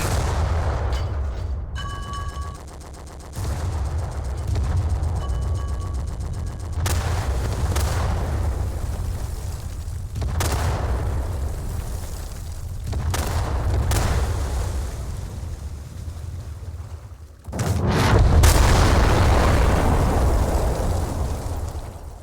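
Repeated heavy booms and gunfire from a Garry's Mod WW2 Wake Island naval battle, a dense rumbling barrage of blasts running throughout with a sharper, louder burst near the end.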